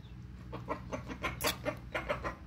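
Hens and chickens clucking close by, a string of short, repeated clucks in an uneven rhythm, with a soft farmyard background hum and no talking.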